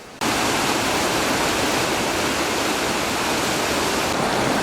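River in Fuxing District, Taoyuan, Taiwan: a dense, loud, continuous rush of flowing water close by, steady and broadband with no pauses.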